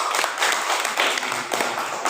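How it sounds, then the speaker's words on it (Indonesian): A classroom of pupils applauds in brief, brisk clapping that comes in dense bursts for about two seconds. "Ya, tepuk tangan dulu."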